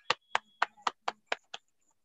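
Applause at the close of a Zoom webinar, welcoming a speaker: seven sharp, separate claps in an even rhythm, close and clear, with no talk over them.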